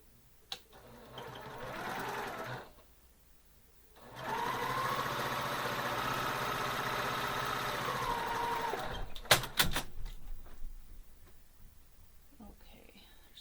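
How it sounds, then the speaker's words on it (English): A sewing machine runs in a steady burst of stitching as half square triangle quilt pieces are joined, loud and continuous for about five seconds, with a brief lull and quiet handling sounds around it. "I'm going to sew all these half square triangles together before I stop and press"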